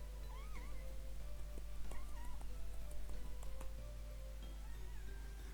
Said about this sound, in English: Chat want to hear you meow.